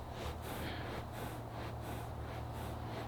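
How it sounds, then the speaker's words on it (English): A horse breathes hard after exercise, a close, loud, rhythmic series of about seven heavy blowing exhalations and snorts in steady succession. "You know how hard she's breathing."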